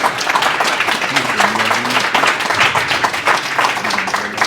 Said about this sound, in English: big round of applause for all the panelists